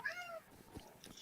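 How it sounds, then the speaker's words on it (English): A cat meows in a pub, a short high wavering cry at the start followed by faint clattering and soft background noise, quiet overall. "the cat singing in harmony."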